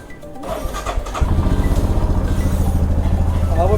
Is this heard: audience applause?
no